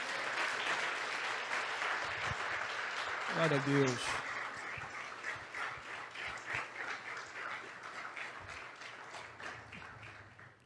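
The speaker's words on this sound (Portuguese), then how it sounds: "Você pode aplaudir o Senhor mais uma vez?" Church congregation applauding steadily throughout, a broad dense wash of clapping with a short spoken exclamation from a man near the middle.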